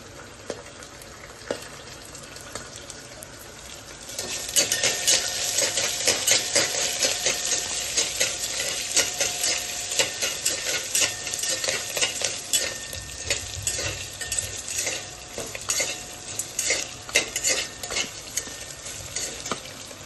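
Ginger pieces fry in hot oil in a pan for wheat rava sprouts upma, a quiet start swelling into loud, continuous sizzling with rapid stirring clatter throughout, no voices.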